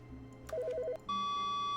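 A telephone in the video game The Stanley Parable: Ultra Deluxe rings. A quick run of alternating electronic chirps is followed by a sustained, steady beep tone, all close and clear with no talking.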